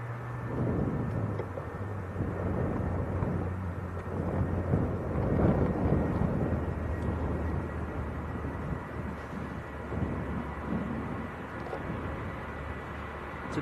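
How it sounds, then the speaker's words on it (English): Steady broadband roar of jet airliner engines spooling up before takeoff at Leeds Bradford airport, a continuous rumbling wash heard from a distance, mixed with wind buffeting the microphone. "Okay, engines are revving up."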